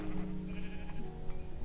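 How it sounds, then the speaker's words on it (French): Sheep bleat in the Minecraft video game, a couple of wavering calls close by over a steady background of game sound and music, with no talking. "Ah, il y a des moutons"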